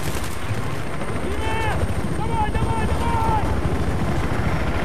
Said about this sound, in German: Da höre ich einen Heli.